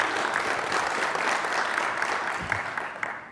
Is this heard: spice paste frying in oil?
no